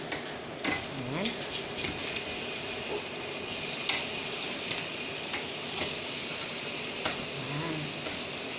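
Pork chop frying in a pan, a steady close sizzle and crackle running throughout with occasional scraping stirs and small clinks.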